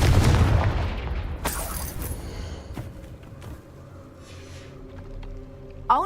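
A Confringo explosive spell in Hogwarts Legacy lands with a heavy booming blast at the start, then a sharp crack and rumbling debris that fades into quieter game ambience before a final short thump.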